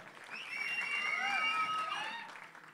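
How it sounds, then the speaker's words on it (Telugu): At a live song launch event for a Telugu film, an audience breaks into a swell of applause and cheering that builds, holds, then fades, with whistle-like tones and crowd voices mixed in. "the entire team needs a big round of applause"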